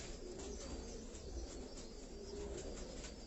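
Pigeons in Karachi coo steadily and softly in a low rolling murmur, several birds overlapping in a continuous backdrop with faint chirps above, no voices.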